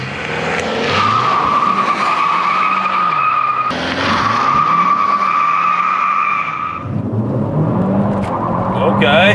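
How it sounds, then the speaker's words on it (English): 2021 Kia K5 GT with the 2.5 turbo doing a burnout, tires squealing in a loud sustained screech over a revving engine through gear changes, with voices talking over it. "So it will flat out burn out through third gear."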